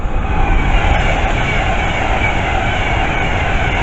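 An Avanti West Coast Class 390 passenger train passing Northwick Park station, a loud, close, continuous roar of wheels and rushing air that holds steady throughout, with faint rail clatter and no voices.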